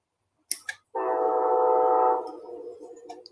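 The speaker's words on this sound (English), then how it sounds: "Probably hear the train. I got the window open a little bit." A train horn blares for about a second from a distance, then fades, after a couple of soft clicks nearby.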